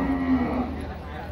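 Cattle at an outdoor cattle and buffalo market in Chiang Rai, Thailand: a low, drawn-out moo rises over steady crowd and market background noise.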